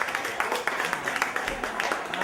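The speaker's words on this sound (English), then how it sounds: "a nice big round of applause for coming out" A crowd applauds, with dense, fairly quiet clapping running steadily through the short stretch.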